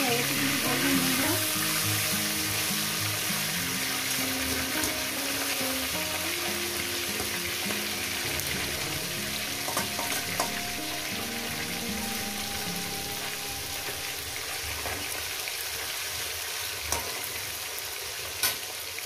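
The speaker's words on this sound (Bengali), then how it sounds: "মাছের মাথাগুলো আমার ভাজা হয়ে গেছে।" Fish heads frying in oil in a pan, with a steady loud sizzle and crackle that continues without pause, plus occasional stirring clinks.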